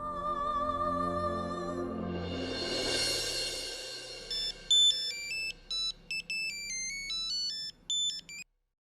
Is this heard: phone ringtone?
yes